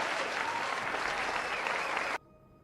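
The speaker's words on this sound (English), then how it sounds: "Round of applause to both of those guys too." Dense applause from a crowd rings out steadily for about two seconds and then cuts off abruptly.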